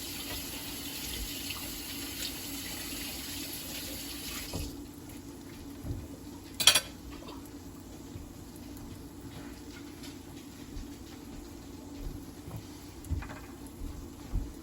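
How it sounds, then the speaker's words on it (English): A fork rinsed under a running kitchen tap, water splashing steadily into a sink with a brief clink of metal and light patter as the stream shifts. "We're going to wash the fork we just used"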